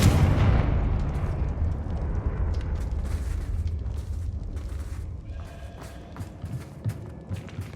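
A Confringo blast spell explodes in the video game Hogwarts Legacy, starting with a loud, booming burst close by that slowly rumbles and fades, followed by scattered small crackles.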